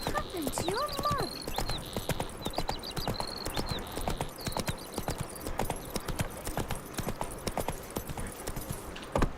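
Horse hooves clip-clop steadily at a gallop in The Witcher 3: Wild Hunt, a dense rapid rhythm that runs the whole time alongside game sounds, with a few brief voice-like cries early on.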